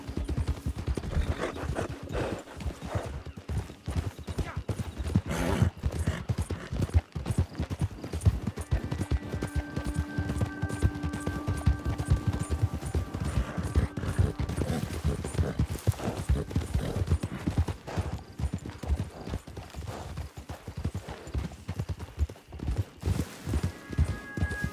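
Horses galloping in the video game Red Dead Redemption 2, a dense, continuous clatter of hooves from several horses at once, close and steady, with a brief tonal hum partway through.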